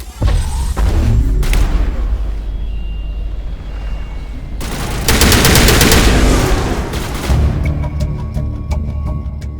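Sustained gunfire in a Mass Effect firefight, dense bursts of rapid shots and booming impacts rolling on loud and close for the whole stretch, with a sharp burst of rapid-fire near the middle.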